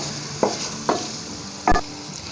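Carrots frying in a pan with a steady soft sizzle, broken by three distinct scrapes or knocks of a spatula as they are stirred.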